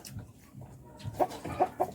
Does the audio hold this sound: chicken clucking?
yes